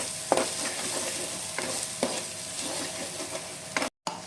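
Spice masala frying in oil for Bengali katla fish kalia, stirred briskly in a pan: a loud sizzle with repeated spatula scrapes and knocks, then a brief cut to silence near the end.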